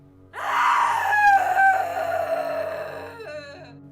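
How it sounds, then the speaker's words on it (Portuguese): A long, shrill scream rises suddenly and wavers for several seconds before fading, with a second, shorter cry near the end, over a low steady hum. "os moradores pararam espantados ao ouvir aquele grito horripilante"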